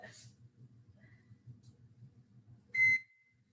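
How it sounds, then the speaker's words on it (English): A kitchen oven timer gives one short, loud electronic beep near the end, ringing out over a quiet, low background hum. "Yes, my oven over here is beeping at me."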